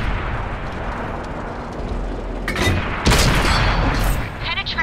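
Tank cannon fire during a rainy standard battle on the Karelia map in World of Tanks, with a loud booming blast about three seconds in over dense rumbling battle noise and radio-style voices.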